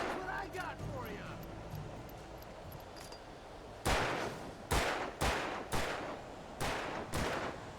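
Bursts of gunfire in a shooter video game, six sharp loud shots spaced irregularly over the second half after a stretch of quieter ambient game sound with faint voices.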